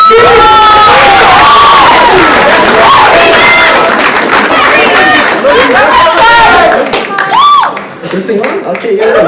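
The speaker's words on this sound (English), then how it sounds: "One more round of applause for this." Loud school assembly crowd clapping, cheering and shouting together, a dense roar of applause with voices and whoops throughout that eases off near the end.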